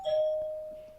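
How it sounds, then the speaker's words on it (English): A single electronic doorbell chime rings out, one clear sustained tone that fades over about a second, heard alone and close. "Somebody's doorbell."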